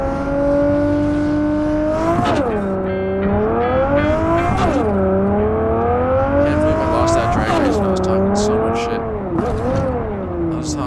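A Ferrari driven in a Cyberpunk VR racing game, its engine revving up and down in repeated rising sweeps with gear shifts, loud and close, under a speaking voice.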